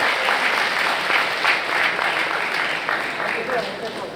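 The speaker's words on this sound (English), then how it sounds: "Let's give a big round of applause to all the people in HR." Indoor audience applause at a company recognition event honouring the HR staff, a steady, even clatter of many hands lasting about four seconds with a faint voice mixed in.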